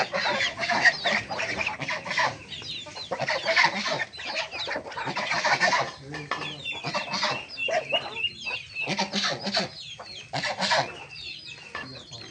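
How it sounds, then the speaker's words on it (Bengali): Desi hens and a large rooster cluck close by in a village yard, with repeated, uneven bursts of clucking and short pauses between calls. "এই মুরগাটা মূলত আমাদের বাড়ির সবচেয়ে বড় মুরগা"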